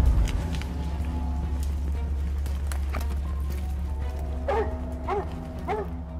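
Hunting dogs bark in repeated sharp bursts near the end while cornering a wild boar, over steady low rumbling and scattered thuds of movement through the brush.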